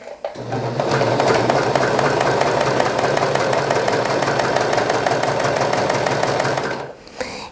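A serger sewing machine runs steadily while stitching along a napkin edge, a close, fast, buzzing mechanical chatter that holds for about six seconds before stopping abruptly.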